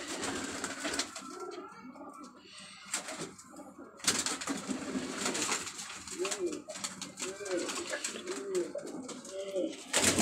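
Close, clear rhythmic cooing from pigeons of several varieties, including silver birds, repeats in rolling phrases over a busy background of other bird calls, with brief talk and a sharp knock partway through.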